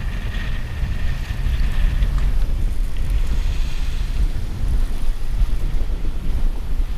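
An engineless sailboat moving at about 5.5 knots under a reefed staysail, with loud steady wind buffeting the microphone over a constant rushing wash of waves along the hull; no one speaks.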